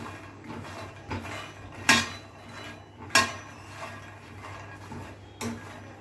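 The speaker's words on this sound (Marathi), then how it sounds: "हा बघ चांगलं मिक्स कर नाहीतर जळणार." Fox nuts (makhana) roast in a metal pan while being stirred, making a steady dry rustle punctuated by a few sharp metallic clinks of the utensil against the pan, close and moderate in volume.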